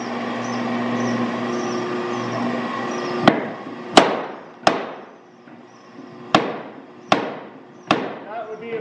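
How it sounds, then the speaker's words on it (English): Little Giant power hammer forging at a blacksmith's shop, giving six sharp, loud metallic strikes at uneven intervals after a steady mechanical hum, with no talking over the blows. "The harder you push down, the harder the hammer is going to hit."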